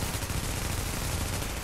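Dense automatic gunfire in The Division PvP combat, a loud continuous rattle of rapid shots filling the whole stretch with no talk over it.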